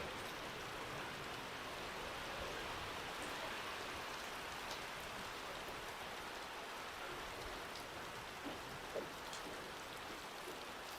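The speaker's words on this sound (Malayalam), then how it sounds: "അസാധ്യ മഴ കേട്ടോ ഇന്ന്" Steady heavy rain pouring down, a dense continuous hiss with occasional louder drops, no voices.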